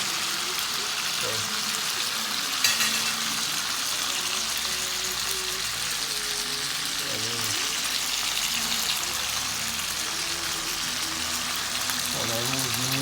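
Fish frying crispy in hot oil, Jamaican style, a steady loud sizzle and crackle running without pause, with occasional spatters and brief clinks under it.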